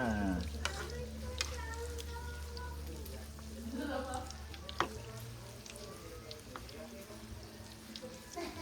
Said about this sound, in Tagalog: Iprito na natin siya